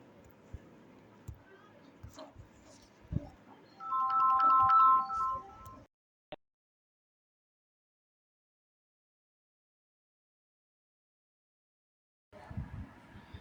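A phone ringtone chimes in a short melodic burst during a live online mock-test maths lesson, after soft speech and ahead of a long silence, with the speaker resuming talk afterward.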